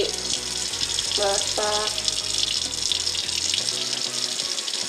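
Tap water runs steadily into a kitchen sink as a pineapple is washed, a continuous close hiss and splash, with someone talking over it.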